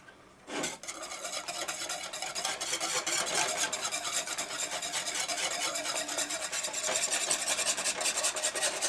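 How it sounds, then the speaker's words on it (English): Brown gravy mix being stirred in a pan, likely with a wire whisk: a steady, close scraping and rubbing that runs continuously after a brief start, with faint sizzling beneath. "Put 1 pack of brown gravy mix in with that. And you want to stir it up."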